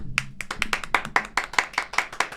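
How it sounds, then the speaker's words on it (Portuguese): A small group clapping for a guest named Dona Marlene on a podcast set, about a dozen distinct, evenly spaced close hand claps in a quick rhythm with little else around them. "Uma salva de palmas, Dona Marlene."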